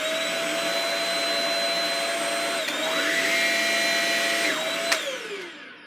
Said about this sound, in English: Now, here's the vacuum here. It seems pretty easy to maneuver. Let's turn it on.